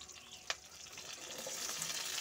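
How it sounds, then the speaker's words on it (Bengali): Potatoes frying in white oil in a pan for a spicy long-bean and potato curry: a soft, steady sizzle with a light clink near the start, faint and close, with no talking. "আলুটাকে কিন্তু একটু লাল করে কিন্তু ভেজে নিতে হবে"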